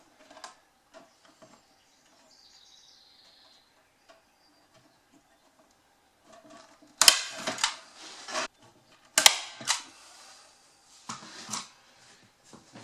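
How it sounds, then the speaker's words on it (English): A cheap, poorly working staple gun tacks staples into wood on a root vegetable bin: two sharp, loud snaps a couple of seconds apart, followed by softer handling knocks, with quiet room tone in between. "And just tack it in there with a few staples. With this horrible staple gun."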